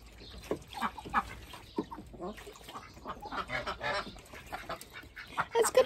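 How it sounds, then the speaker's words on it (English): Ducks and geese in a duck house quack and honk in a busy, overlapping chorus of calls at close range, with a few louder honks near the end. "The ducks."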